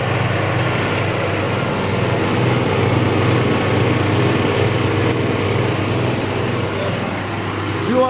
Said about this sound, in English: now there is a machine here which separates.